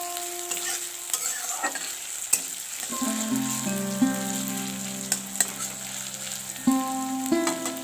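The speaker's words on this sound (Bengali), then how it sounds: "কাঁচা লঙ্কাটাও দিয়ে দেবো এটা ভালো করে ভেজে নিতে হবে রসুন আদাটা" Garlic, ginger and green chili sizzle steadily in hot oil, with stirring scrapes and clinks from a utensil against the pan throughout, no voices.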